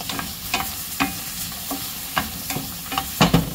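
Black pepper and garlic sizzling in a hot pan, a close crackling fry with several sharp stirring scrapes and no talk.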